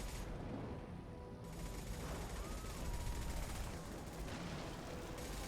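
Sustained gunfire from the video game Mass Effect, a dense, continuous rattle of shots with booming low rumble filling the whole stretch, loud and steady with faint speech mixed in.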